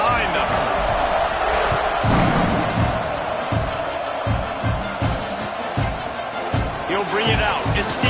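A large American football stadium crowd roars with a steady wall of cheering around a kickoff after a touchdown, while a commentator talks over it.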